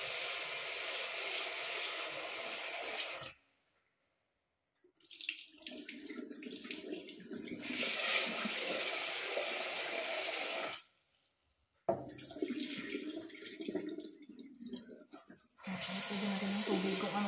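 A kitchen tap runs water to wash Thai glutinous rice, in three long steady bursts with brief silent pauses between them and no talking.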